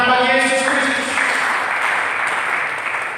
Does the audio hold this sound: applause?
yes